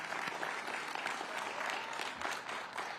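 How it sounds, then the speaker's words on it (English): A crowd claps steadily and fairly evenly at an outdoor ribbon cutting for a covered horse ring at a horse park, the applause holding throughout without a pause. "So join me in giving Gail a round of applause."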